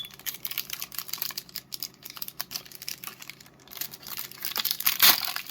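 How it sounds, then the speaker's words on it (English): A wax paper wrapper on a Magic: The Gathering card pack is torn and crinkled open close by, quick rustling and crackling bursts with a sharper tear near the end. "This one is wax paper packaging."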